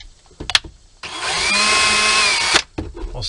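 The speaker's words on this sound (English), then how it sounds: "I'll drill a couple holes here." A power drill boring a couple of holes into the wall of a camper runs in one steady, loud burst of about a second and a half, with a few handling knocks just before and after.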